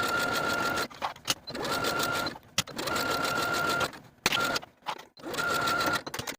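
A domestic sewing machine stitches the seams of a peplum skirt with a 5/8 inch seam allowance, running in several loud steady bursts separated by brief pauses, close and alone with no talking.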